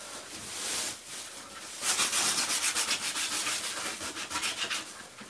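An electric sander works over a surface during a home room renovation, making a close, rhythmic scraping rub with repeated short strokes that grow louder partway through.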